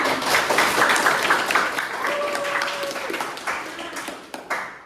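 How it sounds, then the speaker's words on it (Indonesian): A classroom of students applauds together after group presentations, a dense, steady patter of clapping that holds for several seconds before thinning out, with a few voices mixed in. "Kasih aplaus untuk kita semua"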